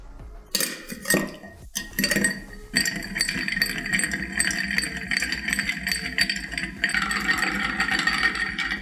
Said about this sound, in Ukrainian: додаю лід та стирую